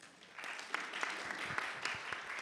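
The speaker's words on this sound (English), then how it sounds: "Let's energize this room with a round of applause." A workshop audience at a conference gives a round of applause, a faint, steady patter of clapping from a small room with a few sharper claps standing out.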